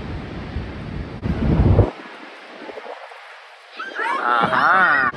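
Pacific Ocean surf on the Oregon coast washes in as a broad steady roar mixed with wind buffeting the microphone, with a voice speaking near the end.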